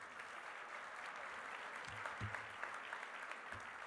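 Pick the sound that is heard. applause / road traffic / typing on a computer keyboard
applause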